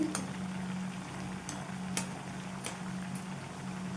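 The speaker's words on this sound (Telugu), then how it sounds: "గోల్డెన్ కలర్ వచ్చే వచ్చేంత వరకు వేయించుకోవాలి రెండు వైపులా తిప్పుకుంటూ చూడండి" Pumpkin jaggery appalu fry in hot oil with a steady, close sizzling hiss, broken by a few sharp clicks as they are turned, and no voices.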